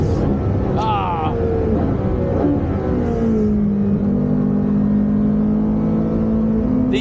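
Cup 2R car engine revving and rising in pitch while driving, a strong steady drone that climbs then settles into a sustained cruise, with occasional voices underneath.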